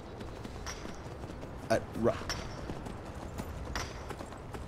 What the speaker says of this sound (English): I end up having to clatter up and down stairs with my admittedly demonic, yet strangely not black horse